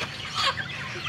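Chickens cluck briefly at close range, a short burst of fowl chatter over a low background hum.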